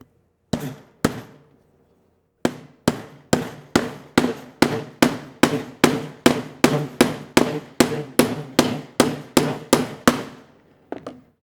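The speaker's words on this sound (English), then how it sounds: "I'm going to use this hammer to nail into a block of wood" A 3D-printed hammer made of Tough 2K resin drives a nail into two blocks of wood: a pair of sharp strikes, a pause, then a long even run of about twenty loud, close blows.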